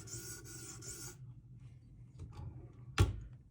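A Spyderco Para 3 knife edge drawn across a sharpening stone, a few quiet scraping passes with a short rasp at the start and a sharp knock near the end, no voices.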